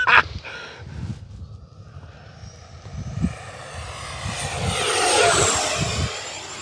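An Arrows Marlin 64mm electric ducted fan RC airplane on a 4S 3300 battery climbs away after takeoff, its whine rising and swelling into a loud, high rushing whoosh as it passes overhead.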